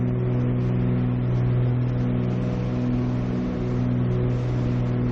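A twin-engine Cessna 310R piston engine in Microsoft Flight Simulator runs steadily and loudly through an attempted start, with a constant low drone and a slight dip partway through, no voices.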